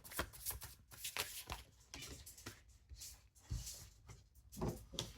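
Tarot cards are shuffled close up, giving soft, repeated riffling and slapping bursts in an uneven rhythm. The sound is quiet, with no talking.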